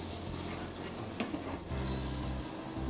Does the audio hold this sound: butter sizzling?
yes